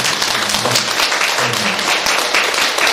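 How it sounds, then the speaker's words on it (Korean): Loud, sustained audience applause for a professor after a long lecture on carbon neutrality and the Catholic Church, steady dense clapping filling the room throughout. "다시 한 번 더 뜨거운 박수"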